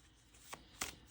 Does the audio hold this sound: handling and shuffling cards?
yes